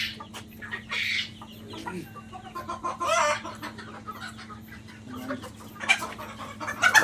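Hens, among them Sonali chickens, cluck in short bursts on an integrated poultry farm that also keeps crested deshi, Fayoumi and broiler birds. The calls come scattered and irregular from several birds at mid distance over a low steady hum.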